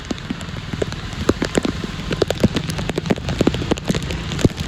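Heavy rain pours steadily during the monsoon at Bhavnath near Girnar, a dense patter of drops hitting surfaces, with many close, sharp splats over a constant wash.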